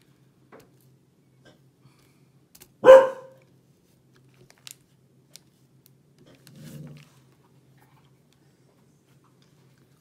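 Single sharp dog bark, close and sudden, breaks an otherwise quiet indoor room, followed by long silence with a few tiny ticks and a soft low rustle later on.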